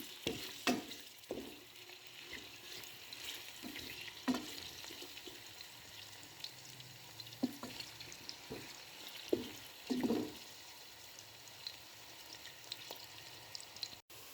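Three to four large onions fry in oil with a quiet, steady sizzle, broken now and then by soft stirring scrapes and a few brief clatters of the spoon against the pan.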